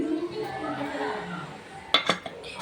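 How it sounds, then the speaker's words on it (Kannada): Sharp metallic clinks and a clunk of a pressure cooker lid settling into place near the end, following a stretch of soft kitchen background. "ಈಗ ಇಲ್ಲಿ ನಾನು ಕುಕ್ಕರ್ ಮುಚ್ಚಳನ ಹಾಕ್ಕೊಳ್ತಾ ಇದ್ದೀನಿ"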